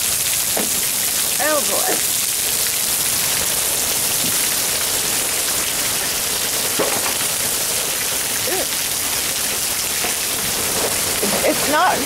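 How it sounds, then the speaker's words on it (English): Hail falls during a storm with tornado sirens nearby, a dense, steady patter and hiss that runs the whole time, with a few short exclamations from a nearby voice over it. "We got hail."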